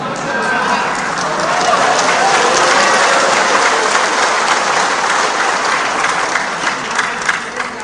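Sustained applause from a large audience at a Ganjar Pranowo presidential campaign speech, dense and steady clapping that swells slightly then continues without pause.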